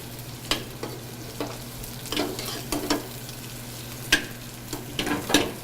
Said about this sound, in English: I'm just going to put my spinach in until it wilts